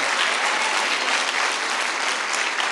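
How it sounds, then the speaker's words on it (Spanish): A church congregation breaks into sustained, dense applause, an even roar of many hands clapping with no voices rising above it. "Dele un fuerte aplauso al Señor."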